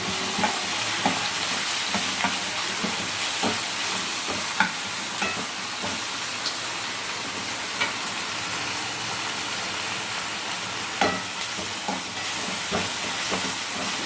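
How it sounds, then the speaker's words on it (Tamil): Ginger garlic paste and onion sauté in oil for a Tamil chicken gravy, with a dense, continuous sizzle and hiss broken by occasional light taps of the stirring spoon. "கிரேவிக்கு இஞ்சி பூண்டு பேஸ்ட்டு, வெங்காயம் எல்லாம் போட்டுருக்கு வதக்கணும்"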